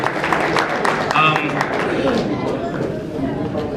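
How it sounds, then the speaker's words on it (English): Crowd applause for the organizing staff at Congresswoman Judy Chu's holiday party and toy drive, a steady roomful of clapping with murmured chatter mixed in, loud and close throughout. "Let's give Judy Chu's staff a round of applause for organizing this."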